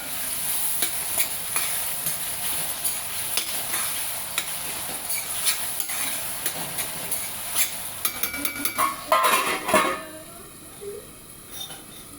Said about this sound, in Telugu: ఉల్లిపాయలు టమాటాలు పచ్చిమిరపకాయలు వేసుకున్నాం కదండి, కొంచెం సాల్ట్ వేసి కలిపి మూత పెట్టి మగ్గనిద్దామండి